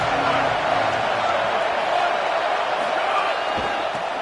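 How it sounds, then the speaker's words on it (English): A roaring football stadium crowd at a USC versus Tennessee game swells to a loud, sustained wall of noise on third down, with a commentator's voice faintly under it. "Decibels rising as the crowd gets behind this defense on 3rd down"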